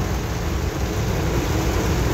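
Heavy monsoon-style rain pours down over farmland in Haryana, India, a loud, dense, unbroken roar with low rumbling thunder mixed into the downpour.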